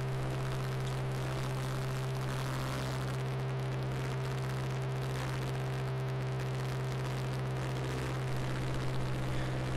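A light aircraft's engine drones steadily in flight with a test-fitted new wing, skirting mist, a constant near hum with no talk.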